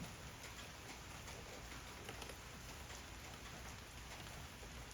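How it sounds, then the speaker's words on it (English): Steady rain pours down outdoors during a rain delay on a whitetail scouting outing, a dense, even hiss that holds unchanged for the full five seconds with no voices. "We're in a rain delay."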